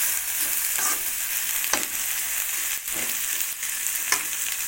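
Onions and drumstick leaves fry on low heat in a pan, a constant close sizzle broken by repeated scraping stirs every second or so, with no voices.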